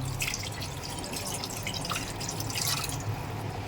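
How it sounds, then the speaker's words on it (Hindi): Water is poured steadily into a cooking pot of dal gosht, a continuous close splashing rush with no talk over it. "अभी आप इसमें अपने ज़रूरत के हिसाब से पानी डालें और गैस को ऑन कर दें"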